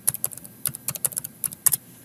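Rapid, uneven clicking of fingers on a computer keyboard, crisp and close, in short irregular bursts with brief pauses, no voices.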